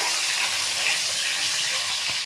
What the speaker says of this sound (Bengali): ডিমটাকে লাল করে ভালো করে ভেজে নেওয়া হবে।